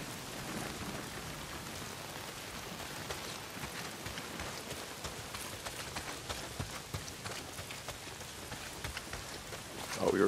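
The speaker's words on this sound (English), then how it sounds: "Not if it's pissing down rain." Heavy rain pours steadily in Days Gone, a dense, even hiss of drops on surfaces running the whole time with no voices.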